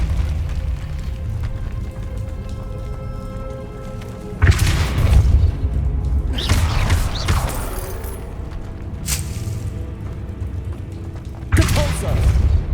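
Depulso spell effects in the game Hogwarts Legacy, several loud booming blasts spread apart, each a sudden thump with a rushing tail, over a steady low game ambience.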